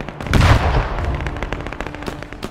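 Burst of gunfire on infantry in the Men of War 2 battle, a loud cluster of sharp shots and rattling machine-gun fire early on, then scattered shots trailing off through a noisy battlefield.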